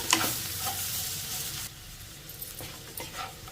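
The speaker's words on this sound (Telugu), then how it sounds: "ఇదంతా మనం మీడియం ఫ్లేమ్లోనే ఫ్రై చేసుకోవాలి ఇదంతా ఒకసారి కలిపేసేసుకుందాము" Curry leaves fry over a medium flame, giving a steady close sizzle that drops back after a moment, with faint scrapes of stirring in the pan.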